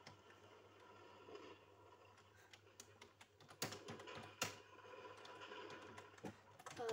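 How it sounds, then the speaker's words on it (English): Soft, rapid keystrokes tap on a computer keyboard close by, in uneven bursts with a few louder clacks and brief pauses, with no voices over them. "What am I typing?"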